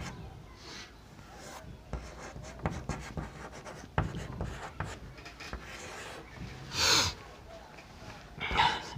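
Pen scratching across paper while an equation is written out during a Class 10 maths lesson on pairs of linear equations in two variables, giving a soft, irregular rubbing and scratching that continues for several seconds with a couple of louder strokes.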